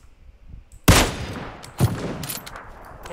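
Gunfire in PUBG PC Lite, a sharp near blast followed by a second shot about a second later, each trailing into a long rumbling decay over faint background.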